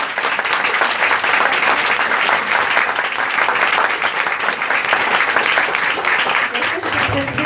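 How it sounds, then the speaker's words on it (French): Audience applause at a conference, a full, steady burst of clapping from a seated crowd that holds at an even level from start to finish. "Alors déjà, on l'applaudit."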